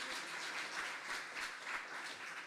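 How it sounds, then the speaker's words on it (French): A church congregation applauds softly and at a distance, the faint wash of clapping rising and falling in gentle rhythmic swells. "Si vous applaudissez, applaudissez pour de vrai."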